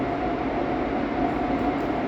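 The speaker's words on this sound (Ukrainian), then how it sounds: "я тільки сіла на потяг" Inside a moving passenger train, a steady, loud rumble and roar continues without break, with no talk.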